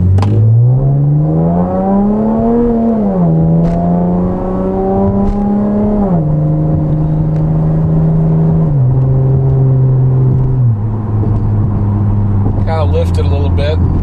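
Camaro V6 fitted with an MRT axle-back exhaust pulling away from a stop, its loud droning engine note climbing through several gear changes, each shift dropping the pitch before it rises again.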